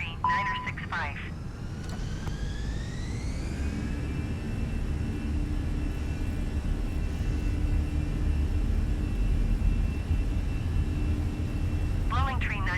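Airliner engines throttle up for the takeoff roll on a Valencia to Alicante flight, a steady broadband roar with whining tones climbing over the first few seconds and then holding, with brief talk at the start and end.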